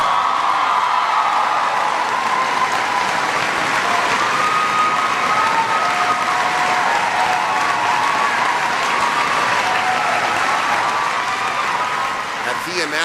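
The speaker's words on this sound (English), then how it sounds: "It was hysterical applause." A large audience at a talk claps in loud, sustained applause with scattered cheers and whoops. The dense clapping stays steady for the whole stretch and eases only slightly near the end.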